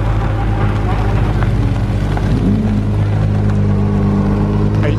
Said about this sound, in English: Lots more cars leaving now.